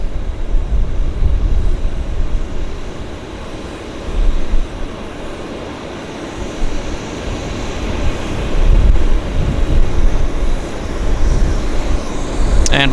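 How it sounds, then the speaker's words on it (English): A Beech 1900 turboprop rolls for departure at Vancouver Airport, a steady distant low engine rumble and roar that swells and eases, with no talk over it. "the one that is taxied out, he's on the departure roll right there"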